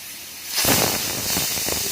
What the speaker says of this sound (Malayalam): ഇപ്പോൾ ഒരു വിസിലായിട്ടുണ്ട്, നമുക്ക് തീ ഓഫ് ചെയ്യാം.